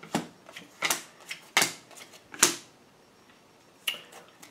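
Sharp, irregular clacks and riffling snaps of cards being shuffled close by, a few bursts spaced apart with quiet gaps.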